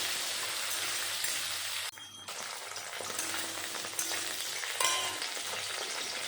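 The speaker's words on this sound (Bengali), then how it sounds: "আলু ভাজা হয়ে গেল" Potatoes frying in a pan make a dense, continuous close sizzle that drops out briefly for a moment before resuming, with no talking.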